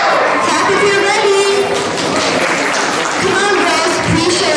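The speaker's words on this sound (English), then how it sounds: "Clap if you're ready." An audience claps steadily before a dance performance at a Basava Jayanthi celebration, a dense, continuous wash of applause mixed with crowd chatter throughout.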